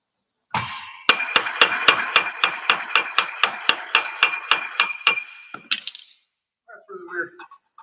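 A hammer strikes metal about fifteen times in a steady, evenly spaced run, each blow ringing sharply up close, followed by silence and a few faint voices.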